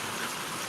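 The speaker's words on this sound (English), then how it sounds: "the rain does sound so good" Steady rain falls during Tropical Storm Elsa in North Florida, a continuous dense hiss of water with no breaks.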